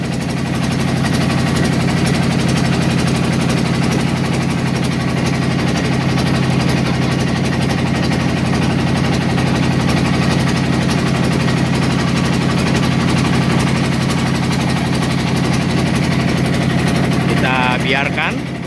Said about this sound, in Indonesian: Kita biarkan perahu melaju terus.